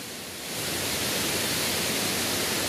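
A Konkan waterfall running heavy after rain pours in a steady, dense rushing roar that swells in within the first half second and then holds constant and close.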